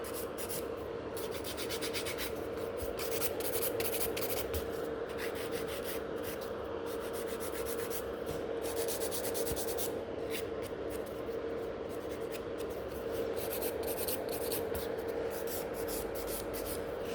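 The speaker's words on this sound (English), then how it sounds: "For filing like the shape, I quite like to use the 100 grit" Gel nail extensions in coffin shape on tips being filed with a 100/180 grit hand file, a steady continuous rubbing and scraping that runs throughout at an even level, close up with no talking.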